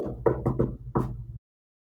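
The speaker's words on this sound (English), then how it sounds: "Just knock on the door like this" Knocking on a door during a tabletop fantasy role-playing session, a quick cluster of four close knocks followed by one more, then silence.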